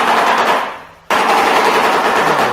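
A shoebill's bill clattering: a rapid, loud wooden rattle like a burst of gunfire, briefly pausing and then resuming just as hard, with no talking.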